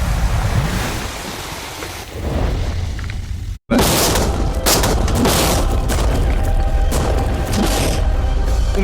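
Tanks fire rapid shots in a game scene, producing heavy, continuous booming blasts with a brief cut to silence partway through before the loud rumbling barrage resumes.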